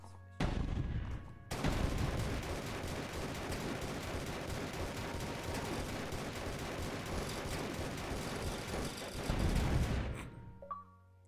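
Gunfire in a video game rattles out as a dense, continuous burst of shots aimed at a giant fish, loud and sustained for about nine seconds before cutting off.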